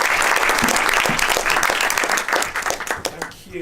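A conference audience greets the keynote speaker with loud, dense applause that holds steady and then tapers off near the end, with a voice starting to speak over the fading claps.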